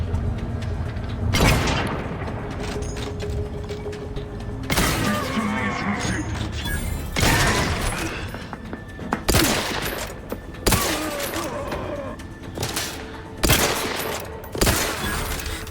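Gunfire in The Outer Worlds 2 video game: several sharp, loud shots and blasts ring out at irregular intervals over a steady background of game ambience, with a voice talking at times.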